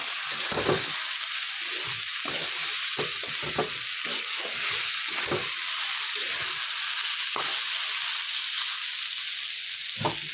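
Fenugreek greens frying in a pan give a steady, close sizzle with repeated scraping and stirring strokes at an irregular rhythm, with no voices.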